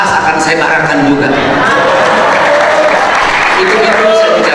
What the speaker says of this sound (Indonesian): Baru saya kali ini melihat di masjid ada tepuk tangan